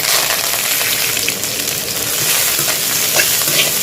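Green chillies, coriander and mint fry in hot oil in a pan, a loud steady close sizzle with stirring scrapes, no talk.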